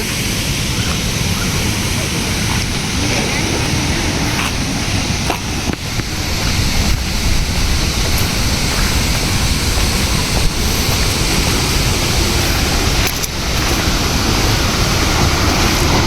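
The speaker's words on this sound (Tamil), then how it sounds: "பாருங்க தண்ணி எவ்வளோ ஃபோர்ஸாக போகுதுன்னு" Water surges forcefully through the Palakkarai aqueduct channel near Perundurai in Erode district, a loud, steady, unbroken roar of rushing flow with faint voices in places.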